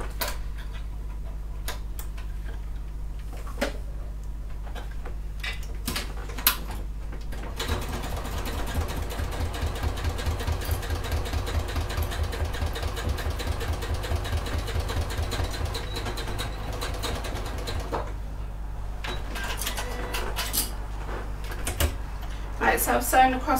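A sewing machine stitches along a line on a fabric clutch bag, a fast, steady mechanical rattle running through the middle of the stretch, with a voice talking at the start and end.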